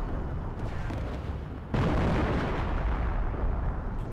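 A heavy explosion strikes mortar positions in the Steel Division 2 war game: a sudden loud blast followed by a dense, sustained rumble of battle noise.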